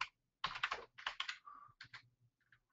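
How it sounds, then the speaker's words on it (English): Fingers type on a computer keyboard in short, uneven bursts of close clicking, broken by brief pauses. "Having trouble typing."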